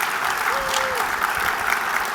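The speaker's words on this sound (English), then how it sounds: "Round of applause." Sustained audience applause after a presentation, a dense, even wash of clapping with a brief tonal sound and faint voices mixed in underneath.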